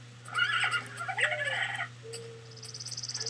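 A horse from the Mo' Creatures mod in the Minecraft Technic modpack gives a whinnying neigh with a quavering, gobble-like rattle, fairly close over a steady low hum, with no talking.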